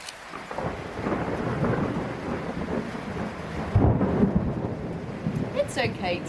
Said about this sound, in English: listen to the thunder and watch the lightning